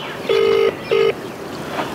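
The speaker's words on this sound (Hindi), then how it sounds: "शांति से फोन मिला, अभी फोन कर देता हूँ।" A phone number being dialed, heard as two loud, clear keypad tones, one longer and one shorter with a brief gap between, close up and with no speech.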